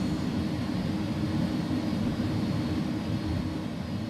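Jet engines of an A300F freighter airliner in the X-Plane 11 flight simulator give a loud, constant broadband roar with no breaks.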